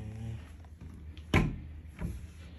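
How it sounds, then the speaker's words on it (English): A soft click and thump of a small refrigerator door opening in a hotel room, followed by a fainter second knock, close by in a quiet room. "You can open that door."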